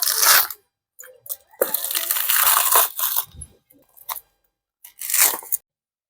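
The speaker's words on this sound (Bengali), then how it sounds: "আগে নারকেলটা কেটে নিচ্ছি সাঁড়া দিয়ে কাটছি" A sprouted coconut being hacked open with a heavy blade: sharp chopping and crunching strikes in irregular bursts, fairly close, with short pauses between cuts.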